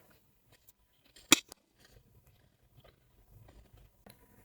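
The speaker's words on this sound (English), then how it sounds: "Now give a knot and cut the extra yarn." Scissors give a single quick snip through crochet yarn, close and crisp, with a smaller click just after, in an otherwise quiet room.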